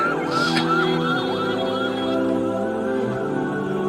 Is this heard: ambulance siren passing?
yes